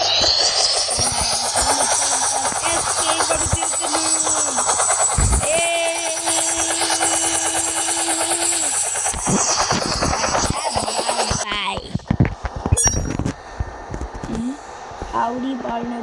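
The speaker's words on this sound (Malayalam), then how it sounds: "ഹെലികോപ്റ്റർ" A helicopter engine drones steadily in the Roblox game Barry's Prison Run, a continuous whirring mechanical hum with shifting tones that fades near the end as a voice talks over it.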